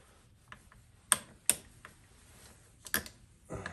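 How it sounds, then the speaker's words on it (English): Torx screwdrivers working screws in a shop give sparse clicks and ratcheting ticks, a few sharp louder snaps among faint mechanical taps, close and quiet, with no talk. "Now I get to actually use my, my Torx screwdrivers that I got."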